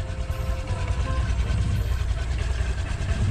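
A Honda Click scooter with a noise issue idles with a steady, loud, low mechanical drone and rattle, close up and continuous, with no talking.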